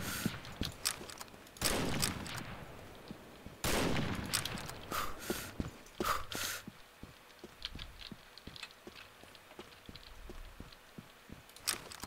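Automatic pistol gunfire in the shooter game Combat Arms: bursts of rapid shots with sharp loud clusters near the start and middle, then sparser scattered pops and clicks fading toward the end, with no talking.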